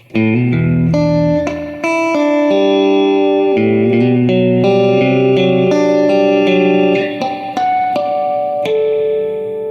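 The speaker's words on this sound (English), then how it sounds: "I could put up the reverb a bit, see how it sounds" An electric guitar plays a run of notes and chords through a Spark cab, each ringing out with a wash of reverb, loud and close.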